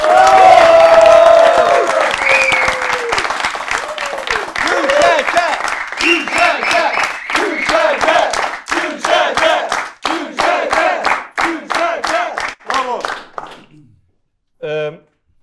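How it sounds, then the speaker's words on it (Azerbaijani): A studio audience at a children's comedy show claps and cheers, starting loud with shouts, then breaking into rhythmic group clapping that fades out before a short final burst. "Gəlin onlara alqışlayaq"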